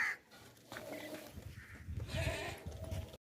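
Goat bleating at a livestock market where dairy goats are sold, with several bleats rising over background murmur and shuffling, fairly close and moderately loud across the short stretch.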